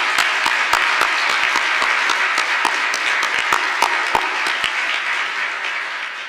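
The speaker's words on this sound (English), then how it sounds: "I want to give them a round of applause and thanks." A crowd applauds at a naturalization ceremony, with dense, steady clapping that holds for several seconds and fades slightly toward the end. No speech is heard over it.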